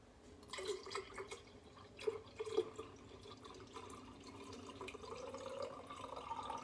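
Buttermilk is poured off homemade no-churn butter, making faint, close liquid trickles and a few soft drips over a quiet background, with no speech.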